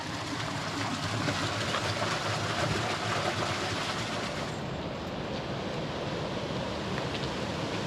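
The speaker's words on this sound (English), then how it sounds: "Apparently there's underground streams and rivers that come through here and out into the river over there" An underground stream pours out into a river in Dovedale in the Derbyshire Dales, making a steady, loud rush of flowing water that fills the whole stretch without pause.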